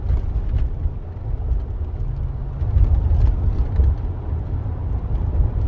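Low, steady engine rumble and road noise from inside a car fitted with a Walker Quiet Flow muffler, a muted continuous drone with no talking.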